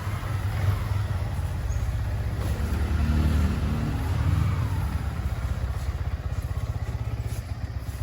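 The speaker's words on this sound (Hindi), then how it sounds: "ये आई थिंक दिव की गाड़ी है ये, और ये क्रिश की बाइक है" A car and a motorbike idling and revving nearby outdoors, a loud continuous low engine rumble with some clatter that swells briefly in the middle, no talking.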